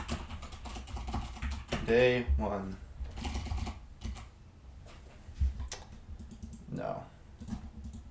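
Computer keyboard typing during a software devlog session, scattered clicks running under steady nearby talk throughout.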